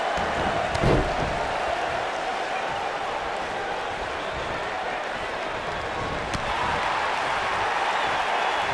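Wrestling slam in the WWE 2K video game, Alundra Blaze versus Ruby Riott: a single heavy body-slam thud early on, followed by a continuous arena crowd roar.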